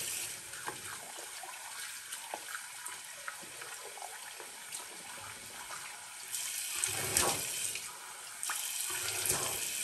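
Hot tap water runs steadily into a sink while a face is wetted before shaving, a continuous splashing flow that grows louder and more turbulent in bursts toward the end.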